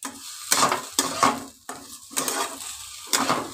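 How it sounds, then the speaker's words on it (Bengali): A green tomato and potato curry is stirred in a pan in about six distinct bursts, each a close scraping, sizzling stroke separated by brief quieter gaps. "এবার খানিকক্ষণ নাড়াচাড়া করে নেব,"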